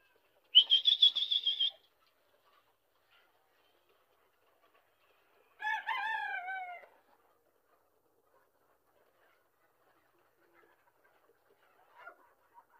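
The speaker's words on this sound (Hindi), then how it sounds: "पहले आपको दिखाते हैं मुर्गियाँ।" Golden Misri chickens on a farm give a short, loud honking call, then after a pause a longer descending crowing cry, followed by faint scattered clucks in an otherwise quiet setting.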